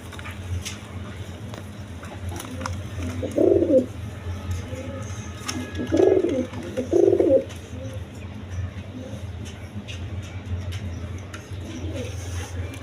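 Rajshahi Golla pigeons, a pair of sky-blue birds, coo in three soft, low bursts close by over a steady background hum, with faint rustling between calls.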